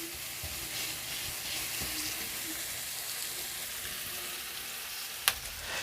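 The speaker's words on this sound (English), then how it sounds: "So I'm just sauteing that." Food sautes with a soft, even sizzle in a pan while mackerel rundown is made, one sharp clink near the end, no talk.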